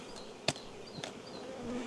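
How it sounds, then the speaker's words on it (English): Honeybees buzz around apiary hives during robbing, a steady drone with louder passes as bees fly close to the microphone. "The robbing is getting crazy. I don't know whether you can tell or hear in the camera. There's just a lot of buzzing going around here."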